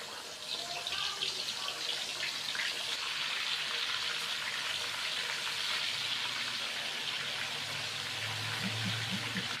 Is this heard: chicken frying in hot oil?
yes